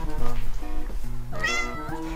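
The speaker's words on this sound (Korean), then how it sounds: "우리 티티 우는 소리 너무 예뻐." A Scottish Fold cat meows several times in close, clear, drawn-out calls with rising and falling pitch, heard up close indoors with a little background noise.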